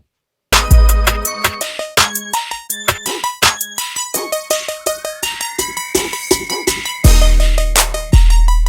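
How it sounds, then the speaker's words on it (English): Layered electronic percussion and tonal hits crossfade back and forth in a steady pattern in Ableton, ending on a sustained tone that carries and repeats like an echo from a delay effect. "the simple crossfade back and forth with a delay at the end"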